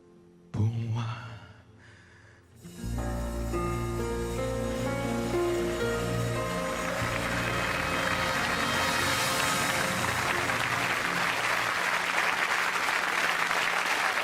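A large audience bursts into sustained applause that swells and holds steady, loud clapping filling the space after a brief live song ends.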